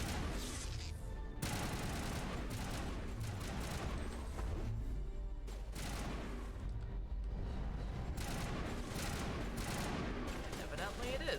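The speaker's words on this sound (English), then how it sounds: "Where are you shooting at, guys?" Rapid video game gunfire in Mass Effect Legendary Edition, dense continuous bursts of shots and booms throughout, loud and close with a layered battle mix.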